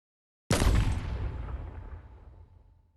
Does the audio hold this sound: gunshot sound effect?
yes